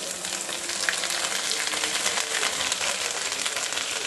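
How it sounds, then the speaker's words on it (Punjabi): Ginger-garlic paste sizzles in hot oil with ground mustard seed, a steady, close, dense frying hiss that holds evenly throughout with faint scattered crackles. "ਹੁਣ ਅਸੀਂ ਪਾ ਰਹੇ ਹਾਂ ਅਦਰਕ ਅਤੇ ਲਸਣ ਦਾ ਪੇਸਟ"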